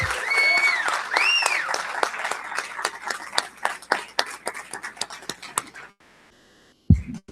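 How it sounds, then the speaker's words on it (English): Audience applause at a school board meeting, a dense burst of clapping that thins into scattered individual claps before fading to near silence, with a brief thump at the end. "just to stand for a round of applause for their leadership"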